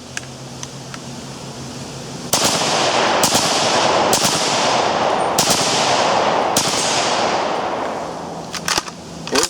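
A gun fired outdoors: loud, close shots at uneven intervals, each with a long rolling echo that merges into a sustained wash, then a few fainter clicks and knocks as it fades.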